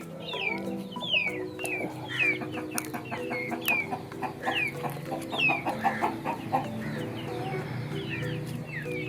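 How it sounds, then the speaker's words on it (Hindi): Hens cluck and squawk close by in a farmyard, with sharp bursts of clucking and rising calls repeating over a steady background, and no one talking. "इतनी प्यारी मुर्गियाँ"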